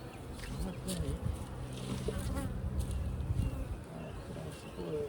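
Honeybees buzzing during a hive inspection, a dense continuous drone of many insects close by, with faint incidental handling noise and no clear talk.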